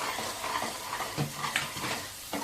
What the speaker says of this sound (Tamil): நல்லா வெங்காயம் தக்காளியெலாம் சுருளாக வதங்கிட்டு எண்ணெய் பிரிஞ்சு வருது பாருங்கள்